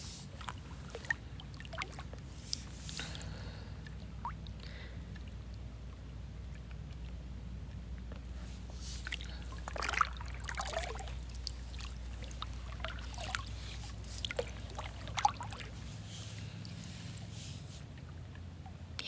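A paddle dips into calm, cold water on Lake Mead on an early morning, giving soft, widely spaced strokes and quiet trickles and drips in a still, hushed setting, with no talking.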